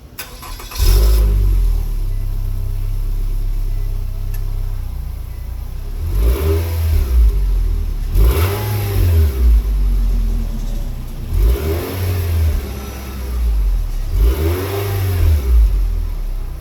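A 2016 Nissan Altima with new mufflers idles loudly with a deep exhaust rumble, then revs up several times in repeated bursts that rise and fall.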